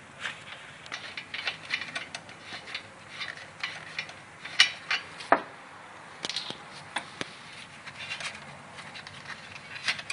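Ratchet clicks come in uneven bursts while 22mm coilover bolts are loosened on a 2011 Scion tC, mixed with metallic clinks and knocks, fairly close with no one speaking.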